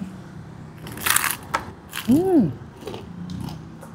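Someone takes the first bite of a giant crispy fried chicken piece at a restaurant in Imus, Cavite, producing a few sharp crunches close to the microphone amid light background clatter.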